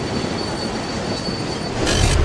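A New York subway train rolls in with a steady rumbling roar and a high thin wheel squeal, growing louder as a burst of hissing noise arrives near the end.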